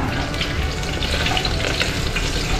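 Steady, dense sizzling of fish frying in hot oil, close and continuous with crackling pops throughout.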